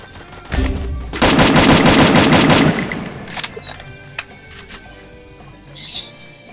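Gunfire in an online shooter video game: a short shot, then a sustained rapid automatic burst lasting about two seconds, followed by scattered fainter shots and game effects, no talk over it.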